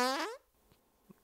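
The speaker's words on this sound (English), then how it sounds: "The rusty gate fart sounds as if it would have worked a lot easier if it had been oiled." A dry, squeaky fart with a rising creaky tone like a rusty gate, short and close, followed by a couple of faint small clicks.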